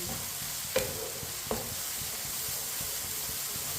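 Tomatoes cook in a pan for a kala chana curry, with a steady sizzle and a spoon scraping and stirring, including two sharp clicks against the pan.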